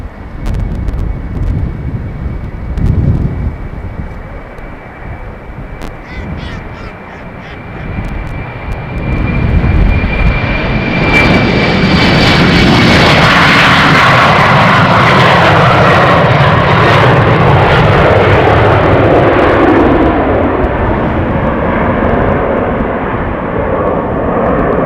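An airliner takes off from runway 36L at Amsterdam Schiphol Airport, its engine whine building into a loud, roaring wash that peaks and holds with gusty wind noise on the microphone.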